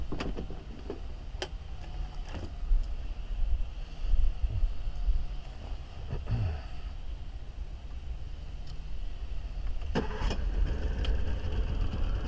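A Carolina Skiff 16-foot boat's outboard engine turns over and catches, settling into a steady running drone under wind buffeting on the microphone, with a few sharp knocks along the way.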